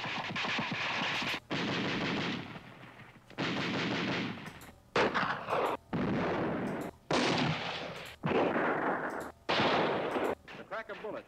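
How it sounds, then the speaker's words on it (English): Recorded automatic rifle fire heard from the receiving end, loud dense bursts of rapid shots in repeated volleys separated by brief gaps. "This is the sound of rifle fire at the receiving end."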